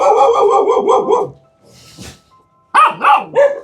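A dog at a rented house barks in short bursts, a quick run of several close, loud barks, a pause with fainter sounds, then three more sharp barks.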